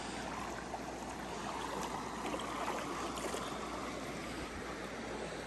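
Creek water flows steadily near hot springs in Idaho, a continuous broadband rushing wash at moderate distance with no breaks and no voices.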